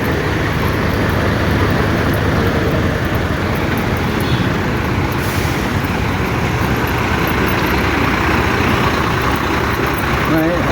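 Steady, loud roadway rumble with heavy engine drone, like a truck running close by, continuous throughout with no pauses.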